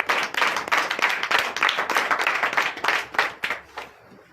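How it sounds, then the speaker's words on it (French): A church congregation at a Sunday service in Benin claps steadily in a dense, continuous burst of applause to acclaim Jesus, loud and sustained before thinning out toward the end. "Donnez l'acclamation à notre Seigneur Jésus."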